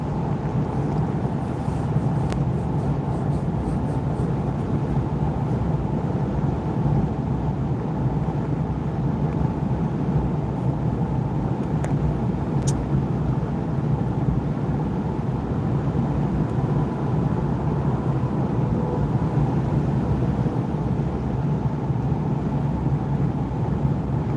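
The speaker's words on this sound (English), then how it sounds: "I'm driving" Steady in-car road rumble from a car being driven, with a constant low drone and mild wind noise running unbroken throughout, loud and close, with no talking.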